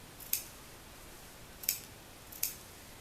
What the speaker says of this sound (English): Okay, so I'm trimming the fabric away.